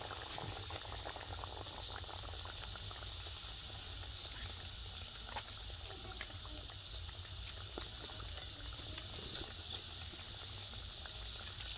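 Fish luchi deep-frying and puffing in hot oil, a steady soft sizzle and bubbling with scattered tiny pops and crackles, close and continuous with no talking.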